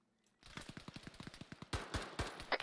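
Video game gunfire in a desert compound battle: a quick, even string of about a dozen automatic shots, then louder, closer bursts with heavier cracks near the end.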